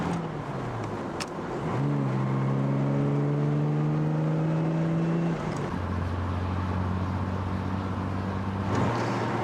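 A 44-year-old sports car from 1961 drives flat out on an open road, hitting about 105 mph. The engine drones loud and close, with rising harmonics as it climbs through the gears and a steady high-speed hum after a shift.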